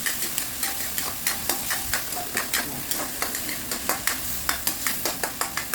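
Tomatoes sauté in a hot pan for a simple home-cooked dish, a spatula scraping in quick regular strokes, about three per second, over a continuous sizzle close by.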